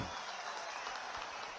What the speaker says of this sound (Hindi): दोनों के लिए जोर से ताली बजाइए जरा